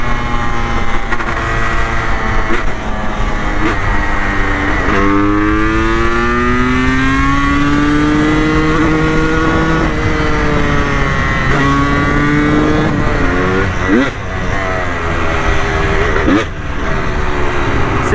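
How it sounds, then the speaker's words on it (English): A two-stroke engine runs loud and close for the whole stretch, its pitch climbing and falling through repeated revs and throttle blips with a steady buzzing drone beneath. "Tell me you don't just love the sound of a two-stroke."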